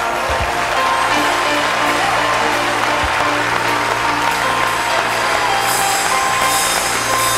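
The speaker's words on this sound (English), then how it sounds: "You can go ahead and clap your hands." A church congregation claps their hands during a sermon, loud, dense and continuous, with a few low thumps mixed in.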